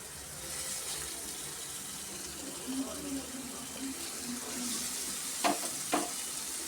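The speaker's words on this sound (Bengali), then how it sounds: "চর্বিটা দিয়ে এবার ভালো করে কষবো।" Meat stir-fried with added fat in a pan, a continuous soft sizzle with scraping stir strokes and a couple of sharper knocks near the end, close by and without speech.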